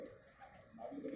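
Pigeons in a loft give a soft, brief coo, a low rolling call that rises slightly near the end, heard faintly and alone.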